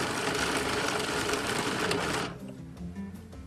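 A meat grinder churns through pork with a steady dense mechanical whir that cuts off after about two seconds, leaving quieter handling noises.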